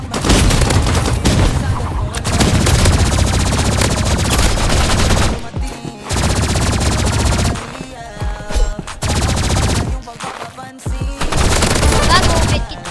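Rapid automatic gunfire from the Roblox game Rivals, loud and dense, in long bursts broken by brief pauses, with further shots and crashes in between.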